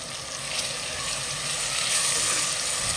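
Chopped onion, garlic-ginger paste, cumin and carom seeds frying in oil for an aloo matar sabzi, a steady close hiss and crackle that grows slightly louder, with no talking.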